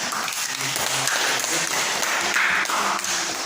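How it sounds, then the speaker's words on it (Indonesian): Classroom applause after a student presentation: several seconds of continuous, fairly loud clapping from a group of students, with faint voices mixed in underneath. "Kita berikan tepuk tangan."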